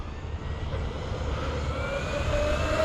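A Traxxas Sledge RC monster truck runs flat out at full throttle, its electric motor giving a steady, loud, high whine that climbs slowly in pitch, with constant drive noise underneath and no talking.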